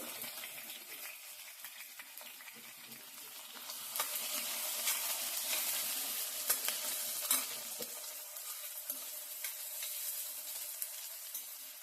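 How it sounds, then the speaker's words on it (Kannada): Green chillies and a large chopped onion fry in a little oil for a banana stem palya, a soft sizzle that grows stronger midway, broken by occasional spatula scrapes, with no voices. "ಇವಾಗೆಲ್ಲ ಹಸಿಮೆಣಸಿನ್ಕಾಯಿ ಫ್ರೈ ಆಗಿದೆ. ಈರುಳ್ಳಿ ಹಾಕೋಣ."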